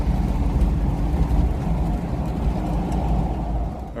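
A 1986 Toyota 4Runner drives under its own power with a steady, low engine rumble and road noise, close and continuous for the whole stretch with no talking.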